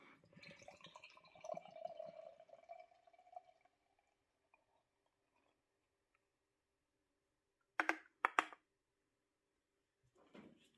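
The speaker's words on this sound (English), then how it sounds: "Let's do the pour, guys." Fox Farm Echoes Baltic Porter, Batch 002, poured from a Massachusetts brewery bottle into a glass: a soft, faint gurgling pour over a few seconds that tapers off, followed by quiet and a couple of brief clinks.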